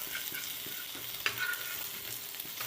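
Fish deep-fries in oil with a soft, continuous sizzle and faint bubbling, heard up close and quiet over a few seconds, with one small tap partway through.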